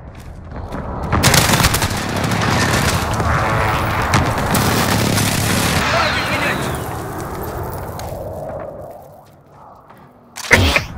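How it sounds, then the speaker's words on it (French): Precision airstrike bombardment in Modern Warfare Search and Destroy, a long rumbling barrage of explosions and gunfire lasting most of the stretch, fading out before a sharp loud burst near the end, with voices underneath. "Bombardement de précision en approche."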